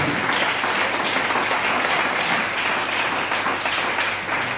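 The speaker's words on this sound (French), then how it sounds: "Est-ce qu'on peut acclamer la parole de Dieu?" A church congregation breaks into loud, steady applause, many hands clapping densely together for several seconds.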